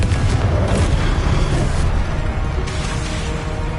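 Explosive Confringo spell blasts going off in Hogwarts Legacy, loud booming bursts with rumbling decay, a couple of sharp onsets around two and a half seconds in, under a constant thick roar.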